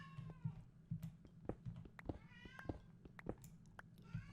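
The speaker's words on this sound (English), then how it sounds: "my cat is yelling at me" A house cat meows repeatedly in a rising, insistent yowl over a steady low hum, several separate calls spread across a few seconds, fairly close and clear.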